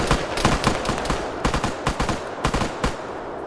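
Gunfire in an Arma PvP combat match, rapid loud bursts of automatic fire in quick clusters with brief gaps between, close and dominant with no talk.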